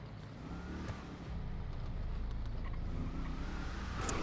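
Car engine revving hard in a video game roleplay, a steady loud low rumble that swells after a second and holds, with faint ambient noise over it.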